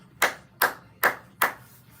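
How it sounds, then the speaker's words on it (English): One person clapping hands four times at an even, unhurried pace, each clap sharp and close against a quiet room background. "So I'm gonna clap it up for y'all one time."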